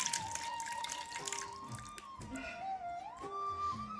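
Watermelon juice poured from a container, a steady liquid trickle and splash with a voice talking over it throughout.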